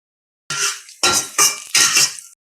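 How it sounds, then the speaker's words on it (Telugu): Spices, cumin and dried red chillies, are stirred in a cooking pan with a utensil, giving four separate scraping, clinking strokes about half a second apart, close and clear with no talking. "ఒక 2 ఎండుమిర్చి వేసేసుకుందాం, కలుపుకుందాం బాగా."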